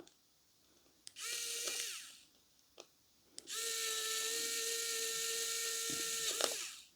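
A KAiWEETS ES21 electric screwdriver undoing a screw, set to low torque: a short whirring motor burst, a brief pause, then a longer steady whine that winds down, close and clear with no talking.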